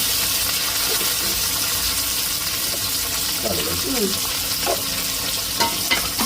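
Onions and green chillies fry in hot oil with a constant broad sizzle, while scattered stirring scrapes and light clinks of a utensil come through over the steady hiss.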